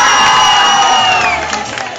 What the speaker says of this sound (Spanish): Aplauso para Eliezer.